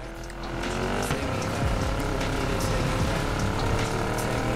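A car engine in the Need for Speed Payback video game holds a steady, low-revving drone that stays at an even level throughout.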